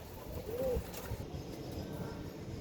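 Pigeon chicks give a single soft coo early on, close by but faint, against a quiet background hum, with no voices.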